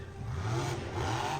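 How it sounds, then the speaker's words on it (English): Monster truck engine at a Monster Jam event in Tampa, a rough mid-range rev that rises and then sags briefly, loud and continuous over arena noise. "Sounded like the truck died completely."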